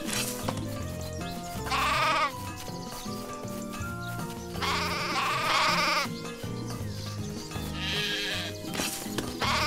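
Sheep bleat repeatedly in the farming-and-building game Craft The World, several drawn-out calls rising over steady background game music, with no one talking.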